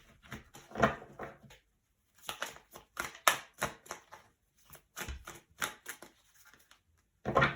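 Quick papery riffling and soft flicking of oracle cards being shuffled in several short bursts separated by brief pauses, close by and otherwise quiet.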